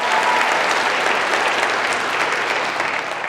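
A conference audience applauding, loud dense clapping that fills the room steadily throughout, with no voices over it.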